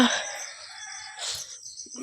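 A black hen and other chickens outside the coop at daybreak, with a loud crowing or clucking call at the start and a second burst partway through, over steady background hiss.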